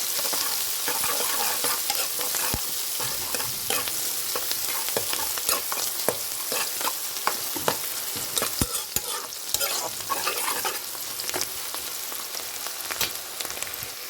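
Chopped onion pieces fry in a pan until golden brown, giving a steady close sizzle with scattered crackles and pops throughout and no voices.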